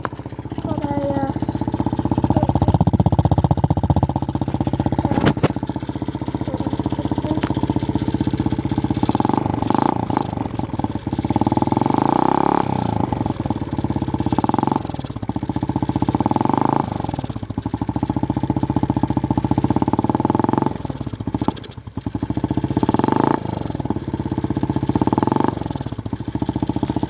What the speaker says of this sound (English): I'm doing the MX Rider Motocross bike and I'm just going to start it up for you.